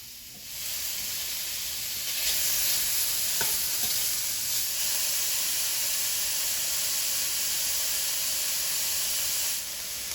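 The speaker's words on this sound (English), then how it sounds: "it's time to throw the meat in the pan" Pork meat hits a hot pan and sizzles loudly, a steady bright hissing fry that holds evenly for several seconds with a faint clink of a utensil, no voices.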